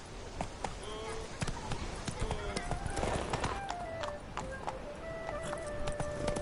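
Hooves of the horse Roach clip-clop steadily in a PS4 video game, a fairly close rhythmic patter under tonal game sounds and occasional voice.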